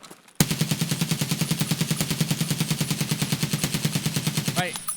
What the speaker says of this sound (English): Let's try shooting while strafing.